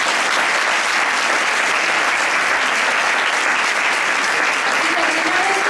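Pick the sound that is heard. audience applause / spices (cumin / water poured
audience applause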